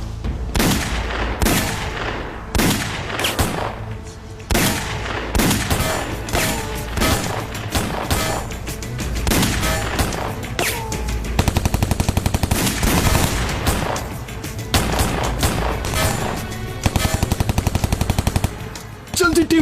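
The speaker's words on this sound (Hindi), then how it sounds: "उन्होंने शदीद फायरिंग शुरू कर दी है, जल्दी मदद भेजिए।" Heavy machine gun fire in an Urdu television drama, loud rapid bursts and sustained volleys with booming shots filling the whole stretch, with occasional shouted voices beneath.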